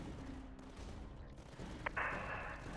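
A Vector cannon in the Tower Dominion strategy game fires in a quiet, muffled burst, a short sharp crack followed by a sustained bright blast under a low rumbling game backdrop.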